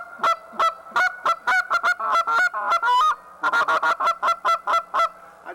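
A goose call tuned for a deeper tone, blown by hand in rapid series of honks, loud and close, with a brief pause before another quick run of clipped, throaty goose notes.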